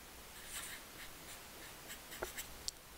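A pen scratches out an algebra equation by hand on paper, soft rapid strokes and small taps close by, faint and steady with a few sharper ticks near the end, no talking.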